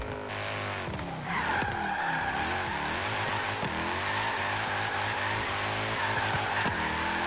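A modified AMG C63 BiTurbo drift build in Forza Horizon 3 drifts and spins, its tires squealing in a long continuous screech over the steady roar of a hard-revved engine in third gear, with no break for the whole stretch.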